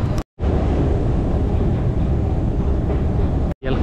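A train runs through a deep underground station at Mörby Centrum, a loud steady rumble and roar that holds for several seconds between two brief dropouts.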